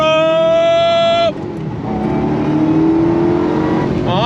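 A 2005 Ford GT's engine screams at high revs in first gear with rising whine, then drops sharply as it shifts to a lower drone that climbs again before another high-pitched surge.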